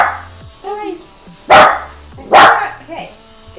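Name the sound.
dogs barking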